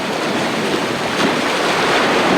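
Sea surf near Siddhnath Mahadev breaks in a steady, loud wash of salty water, with wind rumbling on the microphone and no voices.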